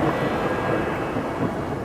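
A thunderstorm rumbles in a continuous low roar with rain, loud and unbroken, with no voices over it.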